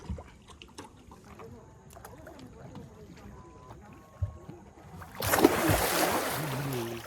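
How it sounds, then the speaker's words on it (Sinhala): A canoe glides across the water of Kiri Ibban Wewa lake, soft lapping and low rumble building, with a louder surge of splashing and rushing water in the final seconds. "ඔරුව ස්ටාර්ට් කරන් එනවා"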